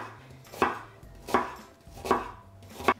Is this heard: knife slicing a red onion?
yes